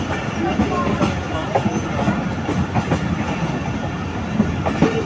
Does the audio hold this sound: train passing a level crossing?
yes